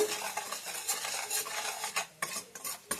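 A spoon stirs spices into hot ghee in a pan, making a close, continuous scraping and clinking, with soft sizzling underneath in a short, busy burst.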